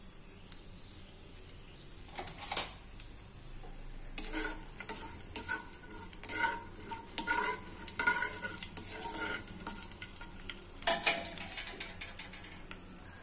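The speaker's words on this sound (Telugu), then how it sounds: "పోపు వేసుకుంటానండి. జీలకర్ర, ఆవాలు, మినపప్పు అండి," Cumin, mustard seeds, urad dal and chana dal temper in oil with a quiet sizzle and crackle, broken by repeated scraping and clattering stirring strokes, some close and sharp.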